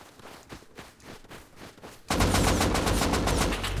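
Gunfire in the video game Rust: quiet scattered shots and steps at first, then a sudden loud burst of rapid automatic fire that keeps going to the end.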